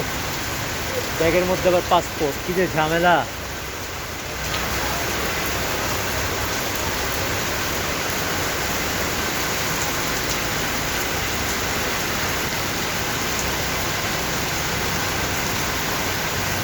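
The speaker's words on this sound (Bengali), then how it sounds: "নমপেনে বৃষ্টি হচ্ছে।" Heavy rain pouring in Phnom Penh, Cambodia, heard beside a roadside food stall as a dense, loud, continuous hiss; someone speaks briefly near the start before the downpour carries on alone.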